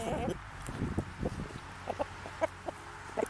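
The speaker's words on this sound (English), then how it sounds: "The Brahma rooster has been called the king of all poultry since the 1800s." Brahma rooster clucking in a series of short, uneven, close calls with brief gaps between them, fairly loud and heard alone.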